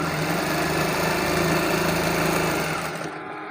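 A sewing machine runs steadily while stitching piping onto a kameez side seam, a loud continuous mechanical whir with fast rhythmic needle ticking that winds down and stops at the end.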